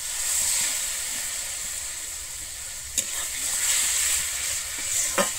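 Tomato masala for Bengali egg curry with potatoes sizzles hard in the pan after a splash of water, a loud, close hiss broken by two sharp clinks of a spoon.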